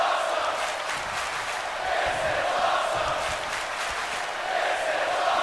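A wrestling crowd at a live event cheers and chants in a steady, loud, roaring wash that swells slightly in waves, with a commentator's voice partly audible underneath.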